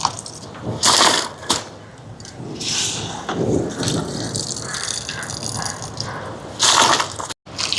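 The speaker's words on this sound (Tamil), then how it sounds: "அரிசியை கழுவி எடுப்போம்" Rice being washed by hand in water, a loud sustained sloshing and gushing with bursts of swishing and rattling grains, running steadily throughout before a brief cutoff near the end.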